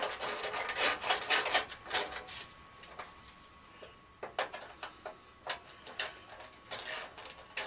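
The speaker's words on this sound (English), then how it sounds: "That noise you hear in the background, that's my charger for the Ingersoll Rand." Battery charger for an Ingersoll Rand tool, giving off faint irregular ticking and clicking in a quiet workshop, with soft scattered clicks that continue steadily.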